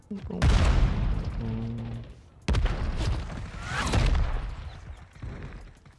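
Gunfire in a first-person shooter video game during a close-quarters fight, with loud bursts of shots and booming impacts spread across the clip, a break near the middle, and a voice talking partly underneath.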